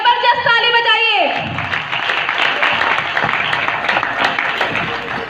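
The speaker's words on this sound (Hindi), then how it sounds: "अपने लिए एक जबरदस्त ताली बजाइए" A crowd at a morning gathering bursts into clapping right after a speaker's voice trails off, the dense applause continuing at a fairly loud level with murmured voices mixed in until the end.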